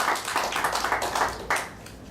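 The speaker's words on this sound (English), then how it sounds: "Please give a big round of applause for Subham Khitan." Audience applause at a GST workshop, a dense, steady wash of many hands clapping that swells and lingers, filling the room without any talk over it.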